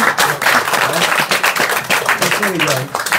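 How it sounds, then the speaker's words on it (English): An audience in The Hague claps for Krishna during an evening program, a dense round of quick hand claps going on for a few seconds. "Clap for Krishna."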